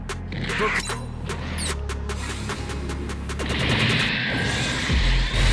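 Mobile suit weapons fire in SD Gundam G Generation Eternal, a dense, loud barrage of rapid shots and crashing impacts layered over game music and effects, continuous through the whole stretch.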